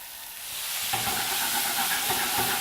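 Cauliflower frying in olive oil in a pan, a steady close sizzle that swells after a second, with occasional stirring scrapes and no talk.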